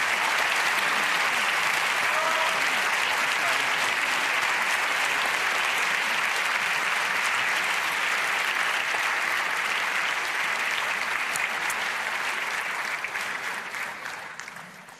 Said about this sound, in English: Give a warm applause of LUX 2024.